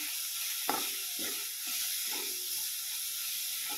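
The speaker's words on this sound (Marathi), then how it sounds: "थोडा वेळ भाजून घेऊ आपण, जास्त नाही भाजायचं याला" Ridge gourd peel chutney with cumin and curry leaves roasts in a pan, giving a soft continuous sizzle and hiss with a few faint scraping stirs, close and fairly quiet.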